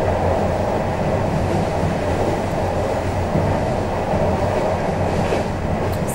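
A train passes along a railway track beside small trackside cottages, a loud, steady rumble of wheels and carriages that holds close and constant throughout.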